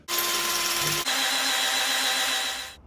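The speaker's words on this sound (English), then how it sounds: "I now need to drill through these holes into the anvil" A power drill whines at a constant pitch, briefly pausing then biting back in as it drills holes into a cast iron anvil, loud and close.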